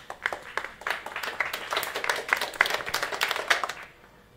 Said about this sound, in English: Let's give all our participants a resounding round of applause for their courage and eloquence.